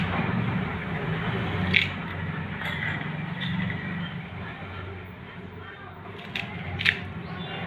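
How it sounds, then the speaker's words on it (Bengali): Washed spring onion stalks cut into small pieces, a few crisp, close snips spaced several seconds apart over a low, steady kitchen background. "এবার কেটে নেব এই পেঁয়াজ কলিগুলো, ধুয়ে নিয়েছি, ছোট ছোট করে কেটে নেব।"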